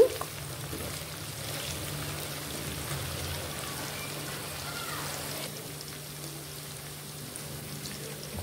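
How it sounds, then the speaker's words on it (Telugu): Chicken fries in oil over a medium flame for gongura chicken pachadi. The sizzle is steady and crackling, at moderate volume, with no voices. "ఇప్పుడు మీడియం ఫ్లేమ్లో పెట్టుకొని ఇలా వేయించుకోవాలి చికెను"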